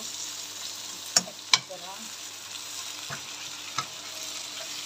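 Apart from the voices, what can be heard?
minced meat frying and being stirred in a pan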